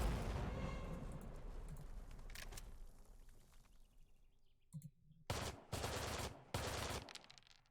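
Bursts of gunfire from the Valor and Victory war game, Arnhem scenario: a dense crackling volley fading out, then several loud clustered rattling bursts near the end, with no talk.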